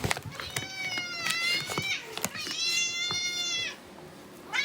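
A house cat gives several drawn-out, rising and falling meows at close range, greeting people who have just come home, with a person's voice and footsteps around the cries.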